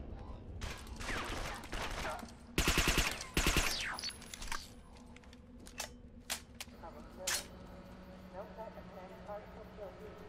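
Gunfire from the video game Interstellar Marines, a few bursts of rapid shots with sharp single reports following, heard over continuous game ambience while someone talks throughout.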